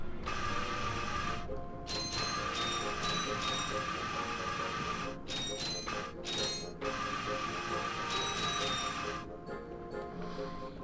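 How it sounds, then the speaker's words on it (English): Ratchet grinding along a metal rail in Ratchet & Clank, a steady metallic scraping whir with bright tinkling pickups and mechanical clicks, briefly broken by a few short gaps. "And while you're grinding, you can actually use your wrench too."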